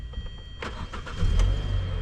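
A car engine with an LPI fuel system cranks with a few short bursts, then catches and settles into a low rumbling idle, close by.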